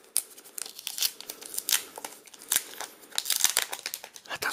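The box of a red vegan-leather Vivo X Fold Plus phone is opened by hand, giving close, irregular crinkling, rustling and tearing of packaging throughout.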